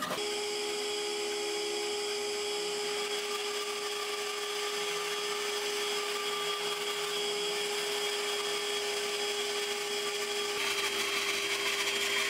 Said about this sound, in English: to get these curves out, I'm just going to use the bandsaw